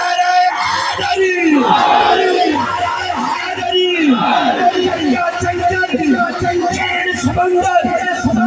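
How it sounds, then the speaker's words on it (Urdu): Large crowd at a religious gathering loudly chanting the slogan Naara-e-Haidari in repeated rhythmic bursts of massed yelling, dense and close. "ہر بندہ ہاتھ بلند کر کے بولے اونچی بولو سارے بولو مل کے بولو نعرہ حیدری"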